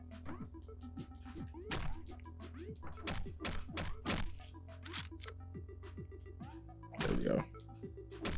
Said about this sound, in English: that was a finisher with a bat